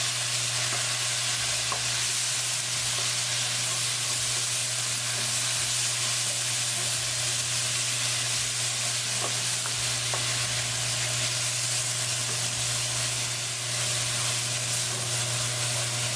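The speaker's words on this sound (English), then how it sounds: "Cooking tomato sauce along with tadka for 1 minute." Tomato sauce cooks with tadka in a pan for a cod fish curry, giving a loud, constant close sizzle with a bubbling hiss and a steady low hum underneath.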